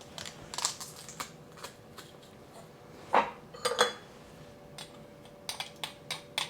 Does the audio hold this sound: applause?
no